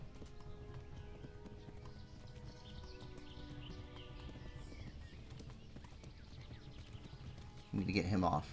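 A horse gallops with rapid, steady clip-clop hoofbeats in the video game Kingdom Come: Deliverance, close and continuous under game music, with a louder burst of noise and a snort near the end.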